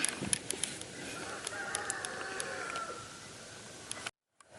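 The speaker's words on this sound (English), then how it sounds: "Rooster was just crowing." A rooster crows at a chicken coop on a farm, one drawn-out crow of moderate loudness heard somewhat distant over steady outdoor background noise and faint clicks.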